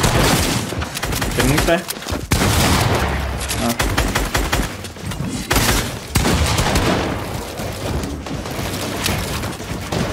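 Rapid gunfire rattles through a Fortnite match: dense bursts of automatic shots and sharp single cracks, loud and close, with a player talking over the shooting.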